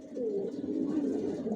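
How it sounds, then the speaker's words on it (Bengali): Racer pigeons of a Johnson line coo in low, throaty rolling calls, steady and close, with no other sounds. "অরিজিনাল রেসার জনসন লাইনের সব লংয়ের কবুতর"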